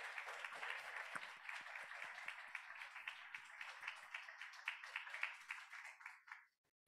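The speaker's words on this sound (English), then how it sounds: "Let's give her a round of applause." Conference audience clapping for an Early Career Award recipient at a science plenary session, steady fairly quiet applause that thins and stops abruptly near the end.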